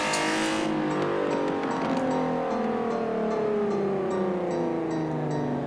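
Volkswagen MK4 Golf R32 with a loud V engine in the racing game Forza Horizon 4, a sustained close engine tone that sweeps upward and falls through gear changes, with faint tire noise and no talking.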